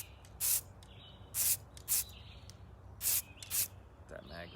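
Short bursts of aerosol spray paint hiss onto an AR-15 rifle being camouflaged, five quick strokes with pauses between, close and distinct over faint background noise.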